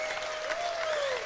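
A crowd applauds steadily at a 1996 Legends of 9-ball match between Efren Reyes and Jim Rempe, a dense, even wash of clapping throughout, with a faint steady tone running beneath it.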